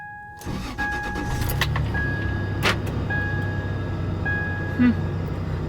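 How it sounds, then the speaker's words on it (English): A 2003 Toyota Tacoma pickup with a TRD supercharger cranks and starts, settling into a steady idle with a faint supercharger whine, plus a few short electronic beeps and a brief click. "Let's hear the startup sound of the supercharger."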